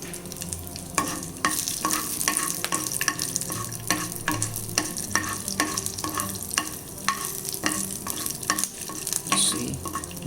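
Broken green chilies and dal sizzle steadily in hot oil in a pan, with a spoon stirring and scraping in repeated sharp knocks over the constant frying hiss, close and fairly loud.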